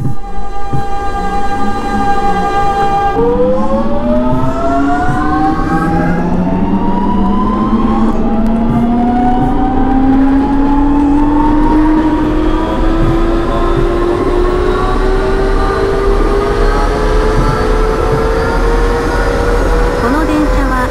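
A snowy-day electric train departing in the Train Crew simulation game, a 3300 series two-car semi-express: a loud, steady motor whine rising smoothly in pitch as it accelerates, with a brief tonal hum before it pulls away.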